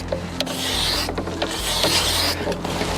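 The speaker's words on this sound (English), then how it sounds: "I'm just going to take this card scraper and get rid of all of my tool marks" A card scraper rasps over a hickory bow limb in repeated close strokes, a dry rhythmic scraping with short pauses between passes and no talk.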